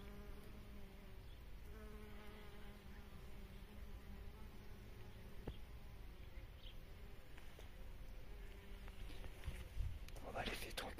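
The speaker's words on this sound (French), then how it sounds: "cette plante attire beaucoup les abeilles" Bees buzz around a flowering plant in a small woodland undergrowth in autumn, a faint, steady insect hum that continues throughout with scattered nearby buzzes and no talk.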